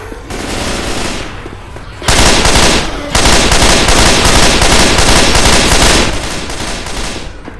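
Gunfire in Left 4 Dead 2 at The Mall and The Atrium, loud rapid automatic bursts that start, pause briefly and resume in dense, sustained fire.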